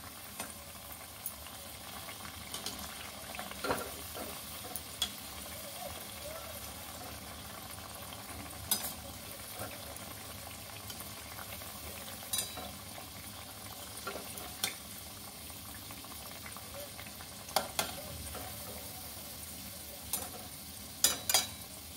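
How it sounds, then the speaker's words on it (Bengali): Bread pieces frying in hot oil until reddish for a sweet, a steady low sizzle and bubble running throughout with occasional soft clicks of a utensil against the pan. "সবগুলো একটু লালচে লালচে করে ভেজে নেব, যেন পুড়ে না যায় সেদিকে খেয়াল রাখতে হবে"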